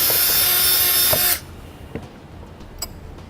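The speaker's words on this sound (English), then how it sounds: "I'll have to take a little bit bigger drill bit and enlarge that hole just a little bit more" Power drill boring a slightly larger hole with a bigger bit while installing a braking system on a 2016 Chevrolet Traverse, one loud steady whirring run of about a second and a half that stops abruptly, followed by quiet with faint clicks.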